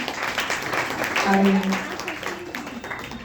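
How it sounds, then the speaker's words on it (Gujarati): Applause from the audience at a Vaishnav youth festival speech competition greets a speaker, a steady patter of clapping running under a voice as he talks throughout. "ખૂબ જ એને તાળીઓથી વધાવી લઈશું."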